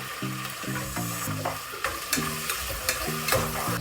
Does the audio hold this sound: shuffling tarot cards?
no